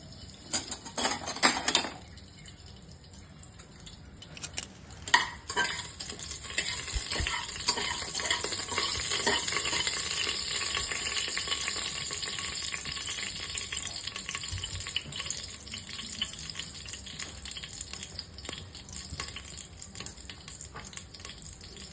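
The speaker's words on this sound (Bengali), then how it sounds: "এবার দিয়ে দেবো গরম মশলা ফোড়ন" Whole garam masala spices sizzle in hot white oil and butter in a pressure cooker, a continuous bright frying hiss with clattering stirring and utensil knocks near the start, holding steady and close for the whole stretch.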